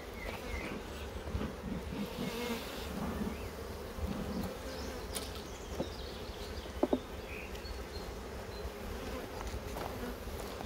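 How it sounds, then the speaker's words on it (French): Many honeybees hum around a hive in a dense, continuous drone close by, with a few sharp clicks and knocks standing out. "Les abeilles sont super gentilles"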